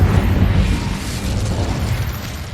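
Fire spell blast in the video game Hogwarts Legacy, a loud roaring whoosh of burst and rumble that starts strong and trails off over a couple of seconds.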